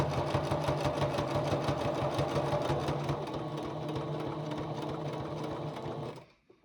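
A sewing machine stitches binding onto a gingerbread star table topper with a steady, rapid, rhythmic needle chatter and motor hum. The sound is continuous and close for about six seconds, then stops abruptly.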